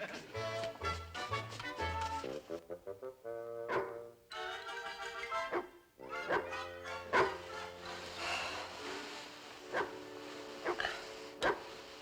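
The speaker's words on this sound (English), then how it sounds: "the dog's barking again" A dog barks repeatedly in short bursts amid music and background sounds in a Dennis the Menace episode, with some yips and whimpers mixed in.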